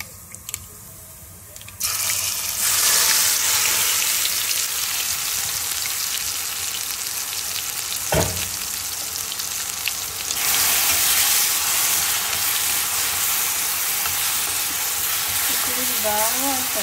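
Onion paste frying in a pan for bitter gourd fry, a loud steady close sizzle and hiss that runs on without break, with one sharp knock partway through.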